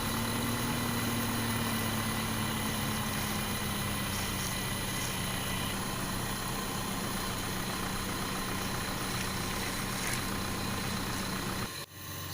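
Toy tractor's engine running steadily for the whole stretch, a continuous idling hum with a mid-pitched drone, close and even, cutting off abruptly near the end.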